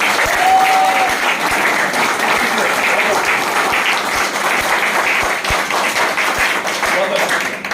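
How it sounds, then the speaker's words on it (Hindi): An audience at a counseling branch event claps for a woman being honored, steady applause under a faint voice, with a brief tone and occasional sharper taps standing out. "एक बार मैम के लिए ताली बजा दीजिए।"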